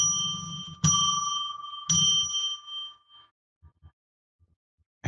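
A small bell rung to open a sacred space on a live psychic radio show, heard as bright ringing strikes that fade away into quiet with faint small knocks afterward.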